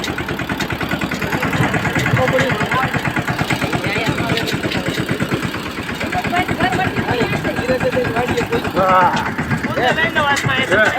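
A steady, rumbling tractor engine idles close by throughout on a farm, with a voice talking over the continuous mechanical drone.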